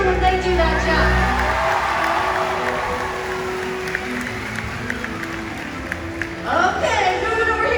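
Stadium audience at an orca show cheering and applauding after a jump, a loud broad crowd roar with whoops that fades out, then swells briefly again near the end, with a voice talking over it.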